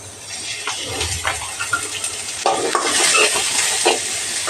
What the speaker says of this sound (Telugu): ఆనియన్స్ కొంచెం ఫ్రై చేసుకొని ఆయిల్లో వేసి ఫ్రై చేద్దామండి